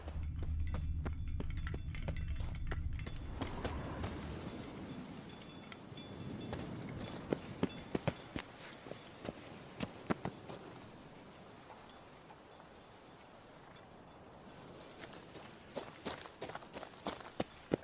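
Roach the horse in Witcher 3 moves with hooves thudding in an irregular rhythm, at first over a heavy low rumble, then as sharper scattered clops that fade and return.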